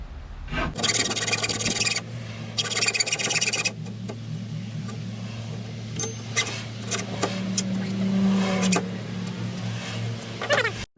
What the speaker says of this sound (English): I got the bigger hacksaw now because that little one wasn't doing too good